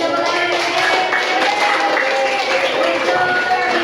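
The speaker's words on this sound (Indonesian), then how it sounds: "Berikan tepuk tangan." Dense, steady applause fills the room after a class presentation, an even wash of many hands clapping at once with no pauses.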